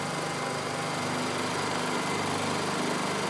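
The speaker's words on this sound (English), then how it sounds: "Now the two generators are running. They're both running on eco mode" Two identical Honda EU2000i inverter generators running side by side in eco mode produce a steady, even engine drone with a high whine, unbroken and fairly close.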